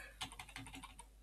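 Computer keyboard being typed on, a short quick run of about eight crisp key clicks in close succession, quiet and near, with no voice.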